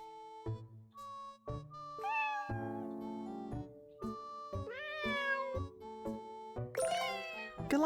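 In the video game Cats and Seek: Dino Park, a cat meows repeatedly in drawn-out, rising calls over light chiming game music, clear and close.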